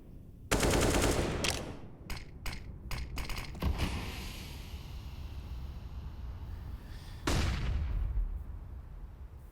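Gunfire in the Counter-Strike video game during a Gambit versus FaZe professional match, a loud burst of rapid automatic fire followed by several single cracking shots, a lingering rumble, then another loud burst.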